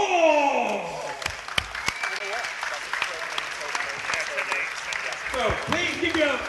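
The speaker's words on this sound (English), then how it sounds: "So please give your applause going for Alex Burns!" Crowd applause fills a Glasgow K1 kickboxing venue after a drawn decision is announced, steady dense clapping mixed with cheers and scattered voices throughout.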